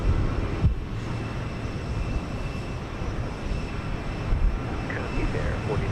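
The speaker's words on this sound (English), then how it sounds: "I do believe we've got flight 2460 going to Los Angeles, a 737-900." A United Airlines Boeing 737-900 jet at Houston Intercontinental airport gives off a broad, steady roar that holds evenly throughout, distant and diffuse, with faint voices underneath.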